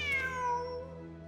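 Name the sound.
cat meowing in the video game Genshin Impact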